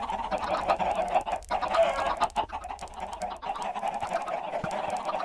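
Flock of chickens clucking in the Minecraft Tekkit 2 modpack, a dense continuous mass of overlapping clucks with no talk, steady and moderately loud throughout.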